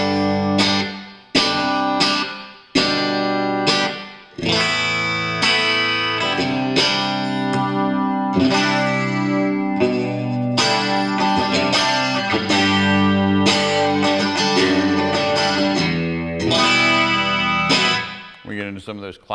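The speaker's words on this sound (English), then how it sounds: "Some of those classic kind of 80s tones with the classic chorus and compression added together" Electric guitar plays chorused, compressed chords and arpeggios through JHS 3 Series chorus and compression pedals, a shimmering, evenly sustained 80s-style tone with clear strummed attacks, loud and close throughout.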